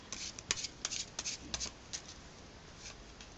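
A deck of playing cards is riffled and shuffled during a card trick, a quick run of crisp, close flutters and snaps that fades into quiet.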